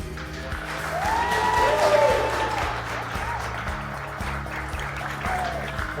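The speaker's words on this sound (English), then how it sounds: "let's hear it for the first time, Mr. and Mrs. Jordan." Applause and cheering from wedding guests swell over background music after the vows, with clapping continuing steadily throughout at moderate loudness.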